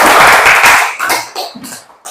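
A classroom of schoolchildren claps after a poem recitation: a dense, loud burst of many hands for under a second, then thinning into scattered claps that trail off.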